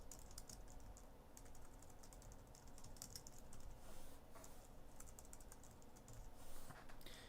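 Computer keyboard typing with irregular clicking keystrokes, entering a class name into a title block in Autodesk Inventor, fairly quiet and steady throughout with no speech.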